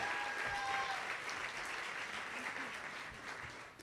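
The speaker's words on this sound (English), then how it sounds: "let's give them a round of applause." Applause fills the room at a livestreamed youth awards ceremony, a dense, even clatter of many hands that fades slightly toward the end, with faint voices mixed in.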